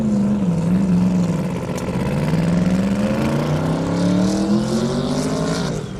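A long-nosed Camaro drag car at an airstrip drag race, around 2,000 horsepower and manually shifted, launching with a loud sustained engine roar that climbs in pitch, drops at a shift, then climbs again before easing off.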